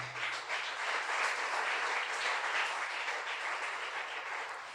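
A church congregation applauds continuously, a dense wash of clapping that holds steady for several seconds and tapers slightly near the end, heard alone at moderate distance.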